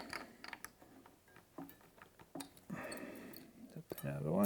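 A steel guitar tuning mechanism is cranked, producing small clicking, ratcheting mechanical sounds close by, mixed with handling noise and a person speaking.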